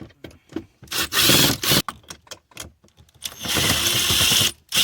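Screws being backed out of the instrument cluster on a 2000-2004 Subaru Legacy/Outback or 2003-2006 Baja dash, with close, loud bursts of scraping, rubbing and rattling against plastic trim in uneven spurts between short pauses.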